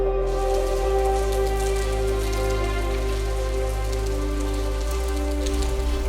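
Rain falling steadily on a trail during a 100 km trail run in Colombia, a continuous close patter under a constant low hum, with no voices.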